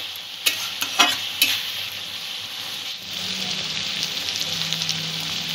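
Masala paste sautéing in oil for a Bengali shol fish curry with vegetables, with steady sizzling and a few sharp spoon-scraping stirs near the start, then a softer continuous fry.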